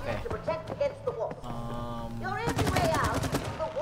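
In the co-op video game It Takes Two, gunfire sounds as rapid repeated shots, heavy toward the end in dense loud bursts, mixed with game sound effects and music while players talk over the action.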